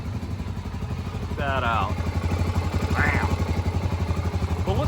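A Honda 400ex ATV, almost 24 years old and recovering from fire damage, idles steadily while warming up, a low rhythmic engine chug running throughout with someone speaking briefly over it.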